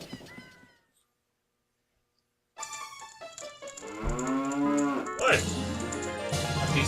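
Cow mooing from inside a cage in the video game Ocarina of Time, a long low moo after a short pause, with a brief spoken question just before it.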